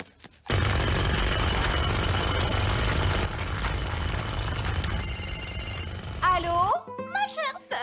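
A cartoon telephone ringing in a royal bathroom scene, a loud continuous electric bell trill that runs for several seconds before giving way to voices speaking.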